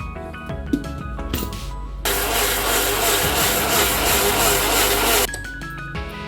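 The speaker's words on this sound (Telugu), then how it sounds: "బాగా మెత్తగా గ్రైండ్ చేసుకోవాలి" A mixer grinder whirs loudly and steadily for a few seconds grinding neer dosa batter with water, starting abruptly and stopping sharply, with faint clinks and room noise around it.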